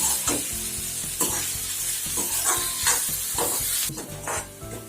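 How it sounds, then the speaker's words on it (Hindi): Onions frying in oil in a pan, a continuous close sizzle broken by repeated scraping stirs and clinks of the spoon, loud and alone. "अब हम इसे ब्राउन होने तक तल लेते हैं।"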